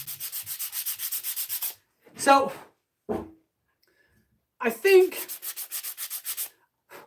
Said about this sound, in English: I'm pretty happy with that sanding finish.